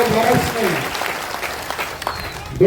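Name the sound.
crowd clapping at rally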